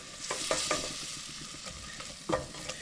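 An onion soup base thickening with stock in a pan is stirred with a soft, steady scraping, joined by a few sharper strokes, quiet and close.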